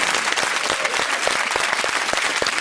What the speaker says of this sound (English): There aren't many of us here, but we are all clapping very loudly